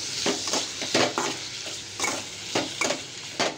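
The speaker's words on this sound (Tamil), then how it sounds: "உப்பு சேர்த்துருக்கோம்ல அது நல்லா வதங்கட்டும்" Vegetables sautéing with rock salt in a pan for tomato sambar, a steady close sizzle broken by repeated scraping stirs at an irregular rhythm, with no voices.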